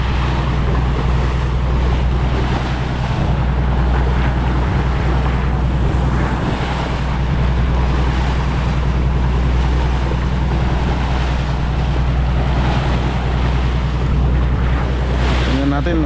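Sea water washes and splashes against a bangka outrigger boat at sea, a constant loud surging wash mixed with engine-like hum and wind rumble, steady throughout.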